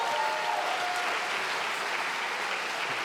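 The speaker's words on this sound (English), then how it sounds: "Please give her a round of applause" An audience applauds at an MBA graduation ceremony, a steady wash of clapping from a large crowd, fairly faint and distant, lasting a few seconds without speech over it.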